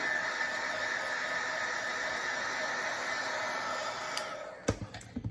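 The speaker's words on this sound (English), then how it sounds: "I helped it along to dry with my heat gun." A heat gun drying clear matte sealant on a tumbler, giving a steady, loud broadband blowing hiss that runs for several seconds, then cuts off and is followed by a few sharp handling knocks.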